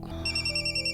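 Mobile phone ringtone for an incoming call, a bright electronic tone that starts abruptly and rings steadily and clearly with no talking over it.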